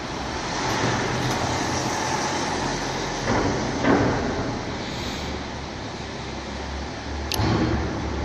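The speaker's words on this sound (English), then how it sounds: "Another car is coming here." Another car approaches and passes on the road near a parked Lamborghini Gallardo, a broad steady roadway rumble swelling briefly, with faint knocks over the wash of traffic noise.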